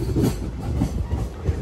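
Visakhapatnam to Bengaluru 08543 SuperFast Express running on a Sunday special service, a steady low rumble of rolling wagons with faint rhythmic wheel beats, close and continuous over a short stretch.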